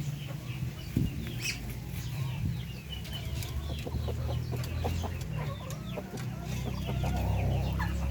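A flock of backyard chickens offered free homemade feed mixed with coconut pulp clucks and murmurs close by, with scattered cackles over a steady background.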